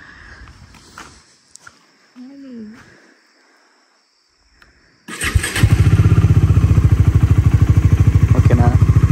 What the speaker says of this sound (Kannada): ಈ ಗಾಡಿನ ಸ್ಟಾರ್ಟ್ ಮಾಡೋದು ಇದೇನು ಸ್ಪೆಷಲ್ ಏನಿಲ್ಲ, ನಾರ್ಮಲ್ ಗಾಡಿನ ಸ್ಟಾರ್ಟ್ ಮಾಡಿ.